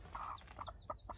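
Several short clucks from hens, close by, in brief irregular bursts with soft barnyard background noise.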